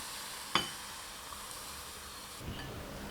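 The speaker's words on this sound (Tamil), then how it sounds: "நான் இன்றைக்கி நெய் சேர்த்து வறுத்து சேர்த்துக்கிறேன்." Cashews roasting in ghee in a pan for leftover-chapati laddu give a soft, steady sizzle with a brief clink near the start, fairly quiet and close, with no talk.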